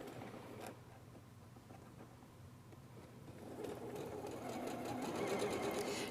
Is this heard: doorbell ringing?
no